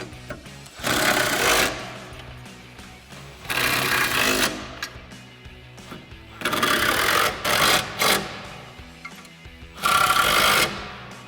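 Bolts on a Jeep Wrangler JK tire carrier are driven tight with a power tool, four loud buzzing bursts of a second or two each, separated by brief pauses with small clinks of tools.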